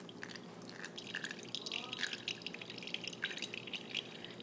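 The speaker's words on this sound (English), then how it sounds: "I'm going to dump it in, pouring carefully." Solution poured carefully into a filter in a lab: quiet trickling and dripping liquid with small irregular splashes, close and faint, no talking.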